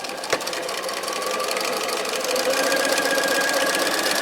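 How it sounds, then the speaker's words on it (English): A Bernina 1020 sewing machine stitching fabric runs at a steady fast rhythmic whir after a single click at the start, close and continuous with a faint high whine, no voices. "Simply feed your fabric into the machine, lower the presser foot, and away we go."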